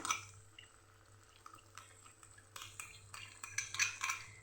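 Fresh cream being stirred into a Kathiyawadi brinjal and potato curry, heard as quiet, close spoon scrapes and soft wet stirring that grow busier toward the end.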